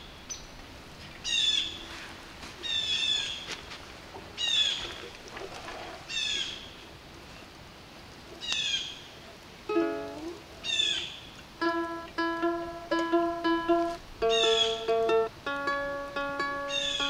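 A blue jay calling in the woods at a bushcraft camp, a series of harsh repeated calls at moderate distance, then clearer bell-like whistled notes toward the end, with no talk.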